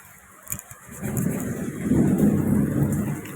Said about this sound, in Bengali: এতটা বৃষ্টি হবে না মানে ভাবা যায় না